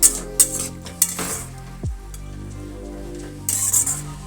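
A spoon stirs sugar into curry in a pot, several clinking scrapes against the metal at the start and end, with a gentle sizzle between them.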